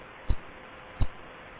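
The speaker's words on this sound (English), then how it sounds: "That kind of thumping sound is each time that radio signal passes across our line of sight." Two deep, isolated thumps from the radio pulses of pulsar PSR B0329+54 turned into sound, spaced about 0.7 seconds apart over a faint steady hiss with a thin high whine.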